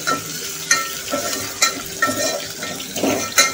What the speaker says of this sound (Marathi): बारीक चिरलेली लसूण, बारीक चिरलेली हिरवी मिरची आणि आलं हे टाकत आहोत। आता हे छान परतून घ्यायचे आपल्याला